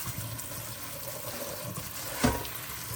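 Cold tap water runs steadily in a kitchen, a soft continuous rush with a brief louder splash near the end.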